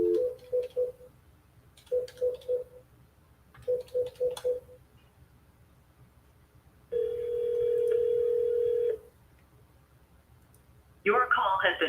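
A telephone call rings out through the handset, with three bursts of rapid repeated tones, then a long steady tone and a short garbled burst at the end, loud and close.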